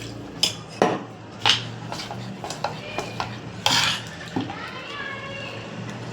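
A spoon mixes water into a thick rava uttappam batter in a bowl with repeated clinks and scrapes. Children's voices and other talk sound nearby.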